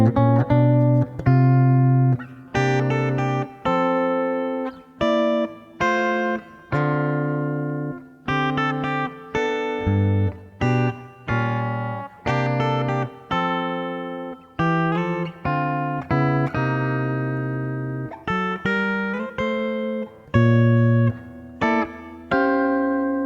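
A 2010 Epiphone Junior electric guitar plays jazzy chords and lines with a buzzy, slightly gritty tone. Phrases of strummed chords and single notes are loud and close, with no talking.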